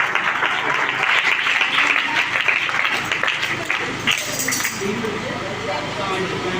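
Audience clapping at a church convention gathering, honouring a sister, a broad steady patter with faint clinks of dishes and glass mixed in, fading slightly toward the end.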